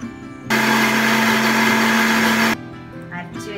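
A kitchen mixer grinder blending chopped banana stem with mustard seeds gives one loud two-second burst of whirring with a steady motor whine, starting and stopping abruptly, followed by faint clatter.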